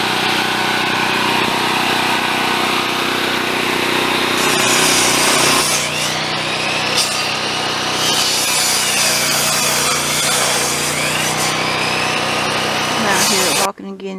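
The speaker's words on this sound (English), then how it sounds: "This saw here will cut them a lot easier than on me" Steady, continuous hand-sawing through small pieces of wood, a rough grinding rasp that runs nearly the whole time, close and loud, ending abruptly.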